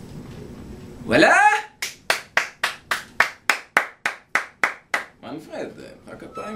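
Hands clap in a steady, even rhythm of about a dozen sharp, close claps on a live broadcast, after a brief vocal sound and before murmuring voices.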